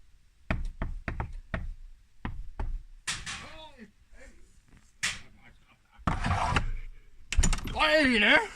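Knocking on a house door by a hungover, lost teenager: several sharp raps in quick groups at the start, followed by people talking.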